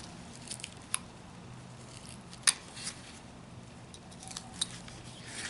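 A knife carves a small opening into a wooden figure of an Amish uncle, giving faint, sporadic snipping clicks and scrapes against quiet background hiss.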